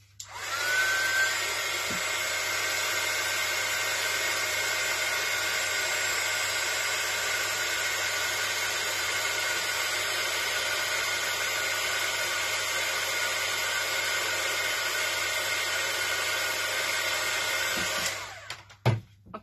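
A heat embossing tool warms layers on a planner page, giving a steady, close whirring blow of air that runs alone for about eighteen seconds before cutting off with a few small clicks.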